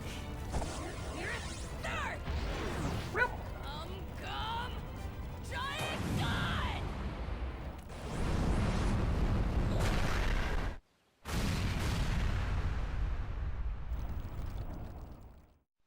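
A giant gun unleashes heavy, booming blasts and crashing explosions in One Piece Unlimited Adventure on the Wii, the loud rumbling impacts repeating across the stretch and broken by one brief pause, with talking underneath.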